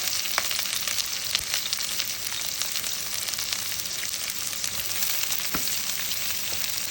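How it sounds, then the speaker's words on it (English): Onions frying in a hot pan, a steady, dense crackling sizzle with small pops that holds at an even level for the whole stretch, with no voices over it. "You hear the sizzle, that knows the pan's hot enough."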